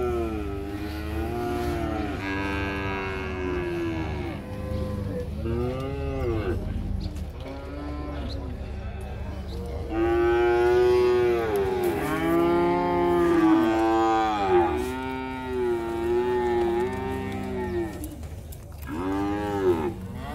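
Fattened steers at a livestock fair in Monte Alegre, Sergipe, low repeatedly in drawn-out, resonant moos, several animals calling in turn and overlapping over a steady background rumble.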